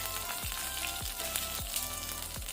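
Cumin seeds with cardamom sizzling in hot oil over a low flame, a soft steady fizz with a few low repeated thumps, quiet and close, no talking.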